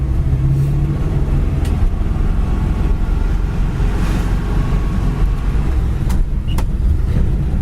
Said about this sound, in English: The flathead V8 sounds nice going down the road.